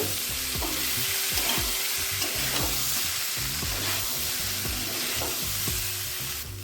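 Amla gets stirred with chili powder in a hot pan, with a continuous sizzle of frying under soft, repeated scraping strokes of a spoon against the pan, close and steady, with no voices.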